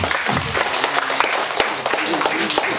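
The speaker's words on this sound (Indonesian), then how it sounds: "Kita beri tepuk tangan dulu ke beliau." A seminar audience at a village development event claps for a lecturer being introduced, a dense burst of close applause that fills the room without pause.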